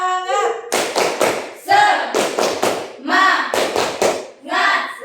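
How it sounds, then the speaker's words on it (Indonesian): A group in a psychodrama counseling session does a rhythmic spirit clap. Bursts of patterned clapping alternate with voices chanting together, close and lively. "Tepuk semangat."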